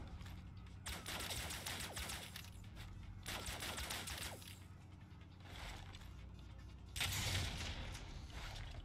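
Sniper fire from a balcony in the video game Exhume: Descent comes as three broad, rushing bursts of gunfire, fairly quiet and somewhat distant, separated by short gaps.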